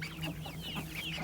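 Red speckled olive egg layer chickens give soft, short clucks in a brief, fairly faint burst, with no one talking.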